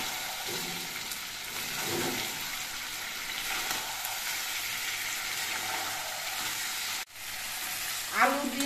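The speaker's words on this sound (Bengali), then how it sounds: "আলুটা দিয়ে চিকেনটা কিন্তু আরো কিছুক্ষণ কষিয়ে নিতে হবে।" Chicken and fried potatoes sautéing together in a pan for a red chicken curry, a dense continuous sizzle with a few soft stirring scrapes, close, broken by one brief dropout near the end.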